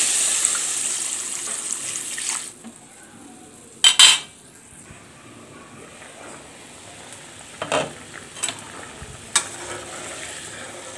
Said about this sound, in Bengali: তো এর মধ্যে অল্প করে পানি দিয়ে দিব।